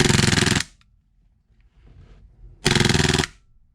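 WE Galaxy airsoft pistol firing full-auto, two loud, rapid mechanical bursts of clattering shots separated by a short quiet gap with faint handling noise, close by and with no talking.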